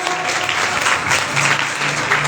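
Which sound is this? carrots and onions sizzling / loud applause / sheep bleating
loud applause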